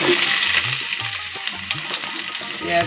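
Chopped onion fries in mustard oil in a hot wok, giving a close, steady sizzle throughout with faint low sounds in the background.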